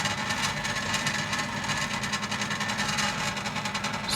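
A stepper motor that had been seized runs inside a Pegasus laser engraver, giving a continuous, steady mechanical buzz with a slight pulsing texture, close up and alone.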